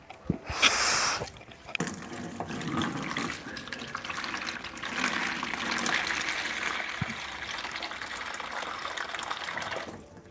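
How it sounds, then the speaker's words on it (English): Water pouring and splashing steadily during an aquarium water change, a continuous close rushing flow that runs for about ten seconds with a brief louder burst near the start. "Right, water change time."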